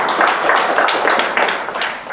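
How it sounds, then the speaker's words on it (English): Sustained audience applause after sports club participation figures are announced at an event, many hands clapping in a dense, steady wash that fills the whole stretch at close range. "It needs an applause for that."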